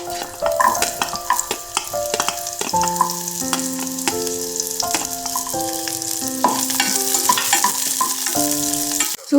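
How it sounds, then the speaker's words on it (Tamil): Chopped onions sauté in a little oil in a pan for a vegetable noodle soup, a steady sizzle with occasional stirring, accompanied by a melodic musical line. "பேனில் கொஞ்சமாக ஆயில் விட்டு கட் பண்ணி வச்சுருந்த வெங்காயத்தை போட்டு கொஞ்சம் நல்லா வதங்கினதுக்கப்புறம்"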